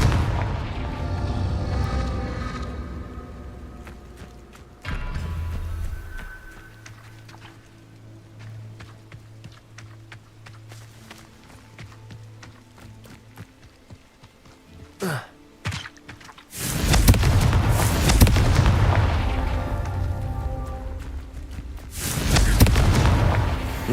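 Fire-spell explosions in Hogwarts Legacy, cast in the Merlin trials, burst out loud and near: a thump at the start, then two long roaring blasts late on, with quieter thuds and game ambience between.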